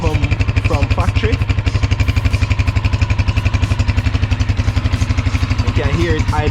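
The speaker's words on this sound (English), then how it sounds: "You can hear it idling really smoothly, really nice." A 2021 Honda Rebel 250 Special Edition with its stock factory exhaust idles close by, a steady, even low thumping pulse, with someone talking over it at moments.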